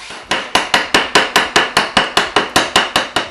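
A chisel struck by a mallet cuts a housing joint trench in wood, about fourteen sharp, evenly spaced blows in quick steady rhythm, close and loud.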